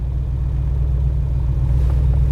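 A Charger restomod's engine idles with a low, steady rumble, heavy and close throughout with no talking over it.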